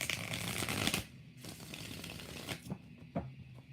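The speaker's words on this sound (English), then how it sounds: "we're doing 5 shuffles for Liz" A deck of tarot cards shuffled close up, a steady papery riffling and slapping over several seconds with a few sharper snaps as the cards settle, no one talking.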